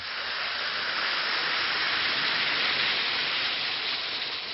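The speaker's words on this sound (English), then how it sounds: "Drop 1 or 2 Alka-Seltzer tablets into a glass of water, like this. Listen to it fizz." One or two Alka-Seltzer tablets dropped into a glass of water fizz vigorously, a loud, close, continuous bright hiss of bubbles that stays steady throughout with no talking.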